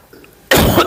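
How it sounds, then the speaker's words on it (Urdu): A single harsh cough from someone with a sore throat, loud and close, bursting out after a moment of near quiet. "آج گلا خراب ہے کافی، اس لیے کھانسی بار بار آ رہی ہے"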